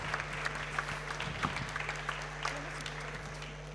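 Applause from an audience at an engineering awards ceremony for a prize winner, a steady patter of many clapping hands at moderate distance lasting several seconds.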